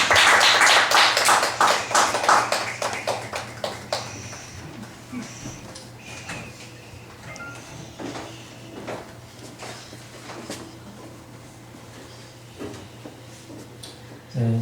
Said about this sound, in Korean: 환영의 박수를 이렇게 보내드리겠습니다